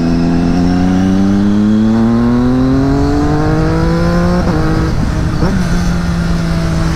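A Triumph Daytona 675 triple motorcycle engine revs high, its pitch climbing smoothly and strongly, then dipping and jumping twice near the end, loud and close with no voices over it.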